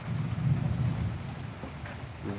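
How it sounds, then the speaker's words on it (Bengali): Heavy morning rain pouring outside a house, a dense steady wash of falling water with a deep rumbling low end, close and continuous. "এত বারে বৃষ্টি হচ্ছে, ঘর থেকে বেরোনো সম্ভব হচ্ছে না"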